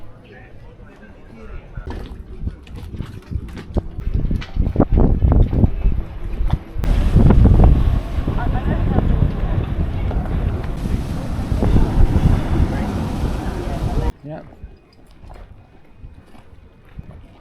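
Wind gusting across a sailboat at anchor in the Ionian, heavy rumbling buffets that swell and drop abruptly, with people talking in the gaps.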